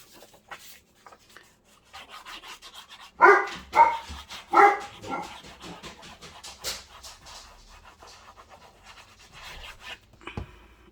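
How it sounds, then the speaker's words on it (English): A dog barks three times in quick succession at close range, with softer rustling, rubbing and panting sounds before and after in an indoor room. "Obviously Colin barks on whether it's a YouTube video or a Patreon video"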